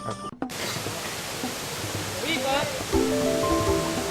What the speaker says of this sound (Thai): นะนี่ก็พามาน้ำตกห้วยขมิ่งนะครับ